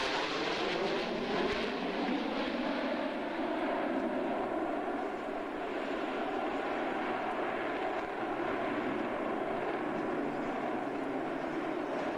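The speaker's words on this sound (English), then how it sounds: "That is one awesome aircraft." An aircraft engine drones steadily for the whole stretch, a broad continuous roar at moderate loudness with a faint tonal hum inside it and no voices.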